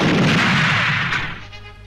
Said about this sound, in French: Ce canon tire une munition anti-char à charge creuse capable de perforer tous les engins blindés